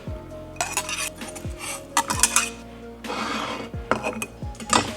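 Chopped shallots and garlic stirred together in a bowl, with a handful of close clinking and scraping strokes of a utensil against the dish, arriving in short bursts separated by brief pauses.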